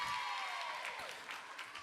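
Faint crowd applause and cheering for Clear Fork at a high school volleyball match in a low-ceilinged gym, a brief distant wash of clapping with a tonal whistle-like sound sliding over it.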